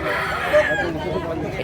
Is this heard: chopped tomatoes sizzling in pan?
no